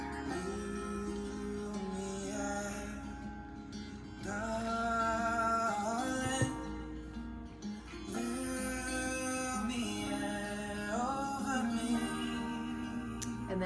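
Acoustic guitar plays the bridge of a song, a steady strummed chord progression with moving notes, close and moderately quiet, alone without voice.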